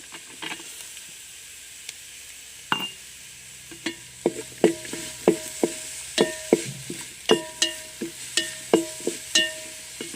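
Onion sautés in a pan with green chili and garlic, a low sizzle broken by a steady run of clinking, scraping stirs that grow more regular as they go.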